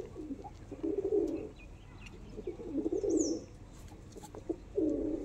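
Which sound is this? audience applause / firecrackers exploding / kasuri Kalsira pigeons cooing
kasuri Kalsira pigeons cooing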